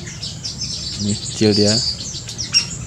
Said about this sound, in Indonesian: ini burung migrasi juga nih, kecil.